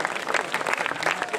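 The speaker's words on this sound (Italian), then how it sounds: "Facciamo un applauso a questa super band." Concertgoers at a live band performance in Portogruaro clap in a brief, dense burst with a few voices mixed in.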